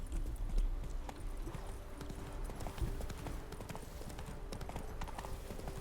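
Horse hooves clip-clopping in The Witcher 3, a steady trotting rhythm of distinct hoof hits on a soft path, close and moderately loud.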